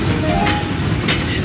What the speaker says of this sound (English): when Henry arrived, he backed down onto the Express.